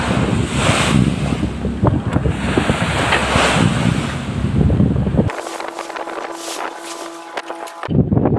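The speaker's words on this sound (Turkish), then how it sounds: "Yediğimiz dalgaları göstermeye çalışacağım." Heavy storm waves crash and surge against a small fishing boat at sea, a loud continuous roar of water and gusting wind buffeting the microphone, with a brief quieter stretch before the wash returns.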